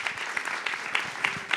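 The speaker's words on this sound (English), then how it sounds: "Please, round of applause for the panelists." Audience applause for the panelists at the Futuro 2025 event, fairly faint, with distinct claps landing in a regular rhythm over a soft wash of clapping.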